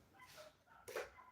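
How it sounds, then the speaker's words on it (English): Dogs in a neighbouring yard bark a couple of times, faint and distant, two short yips within a brief moment. "There's a couple of neighbor dogs that have been barking."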